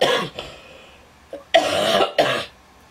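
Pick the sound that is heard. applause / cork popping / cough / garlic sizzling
cough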